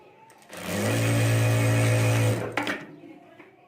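Sewing machine stitching a zip onto a handbag: a loud, steady mechanical whir that starts abruptly, runs for about two seconds, then stops, followed by faint handling clicks.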